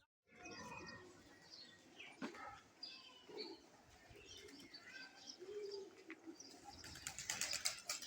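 A flock of pigeons gathers to feed on scattered grain, soft cooing and chirps mixing with bursts of wings flapping, growing busier and closer toward the end; faint and natural, without talk.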